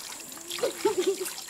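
Water trickles and dribbles from a squeezed sago filter bag into a wooden canoe in New Guinea, producing a close run of small gurgling spurts and drips at a moderate level.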